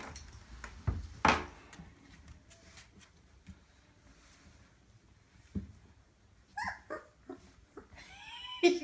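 A puppy named Pepper whimpers and gives a few short, high yips in scattered bursts, close by, with quiet stretches between them and a sharper cry near the end.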